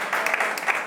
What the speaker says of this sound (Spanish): un aplauso para Huele y Mira